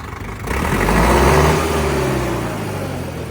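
A heavy Sonalika 60 tractor engine, a 2021 model, rumbles at idle close by, rising after a brief quiet start and then holding a steady, throaty drone.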